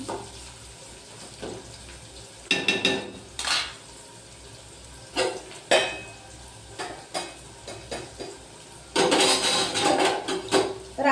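Bitter gourd frying in a pan, with a steady sizzle beneath repeated loud scrapes and clatters of stirring, close and without talk.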